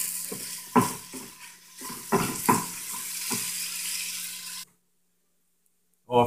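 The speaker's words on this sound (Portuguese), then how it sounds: "eu vou aquecer meu arroz e tem ratinha de purê também que eu vou aquecer" Rice being reheated in a pan on a gas stove sizzles steadily, with several scraping stirs and knocks of a utensil before the sound cuts to silence, followed by a brief clatter.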